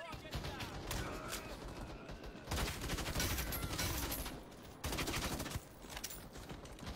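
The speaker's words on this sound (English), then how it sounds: "Bro, this M4A1's a beast." M4A1 rifle bursts in Battle Teams 2, rapid sustained automatic fire in several long strings separated by short pauses, fairly quiet overall with game ambience.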